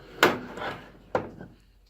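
Two quick wooden clunks about a second apart, a tool drawer holding hammers sliding and knocking, close and sharp in a quiet workshop.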